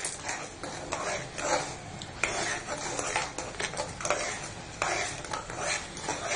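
Almond halwa is stirred in a pan with sugar, giving continuous soft scraping and light clinks of the spoon against the metal, steady and close with no talking.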